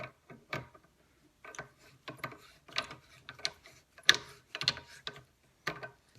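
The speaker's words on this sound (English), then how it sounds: "So thread this retainer in until it's about level with the top of the body." Metal ratcheting clicks and scraping taps come in irregular bursts as a retainer is threaded onto an Indian motorcycle rear shock with a homemade tool, close and fairly quiet.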